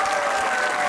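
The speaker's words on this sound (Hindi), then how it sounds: "तालियां होनी चाहिए।" Dense, loud studio audience applause on a Pakistani comedy talk show, a steady wash of clapping with a faint crowd murmur throughout.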